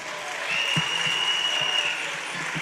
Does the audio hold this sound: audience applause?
yes